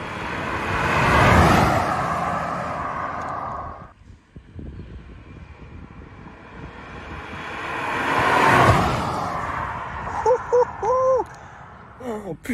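A heavy car engine roars as it accelerates past twice, swelling loud then fading, with brief shouts near the end.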